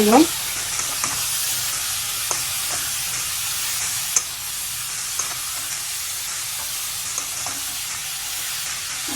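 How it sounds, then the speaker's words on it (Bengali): Hilsa fish head fried with gourd peel in a pan: a steady, close sizzle with soft hiss runs throughout, broken by occasional faint scrapes and clicks of stirring. "ভালোভাবে সব কিছুর সাথে মিশিয়ে নিচ্ছি এখন আমি"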